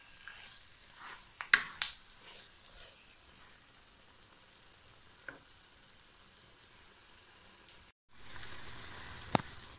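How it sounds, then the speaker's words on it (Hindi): Chicken jalfrezi thickened with cornflour simmers in a pan, a faint, steady sizzle and bubbling with a few soft clinks and stirring taps, no voices. "1 से 2 मिनट और पकाएंगे ताकि हमने जो कॉर्नफ्लावर ऐड किया वो अच्छे से पक जाए।"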